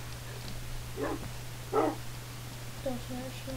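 A dog in the video game Minecraft gives a few short, separated barks, one fairly loud, followed by quicker yips near the end, over a low steady hum.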